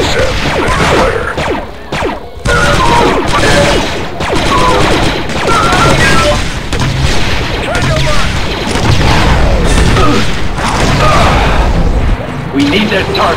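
Squad gunfire and explosions in the video game Republic Commando, a dense, loud barrage of shots, crashes and booming blasts filling the whole stretch, with commando voices calling out over the combat.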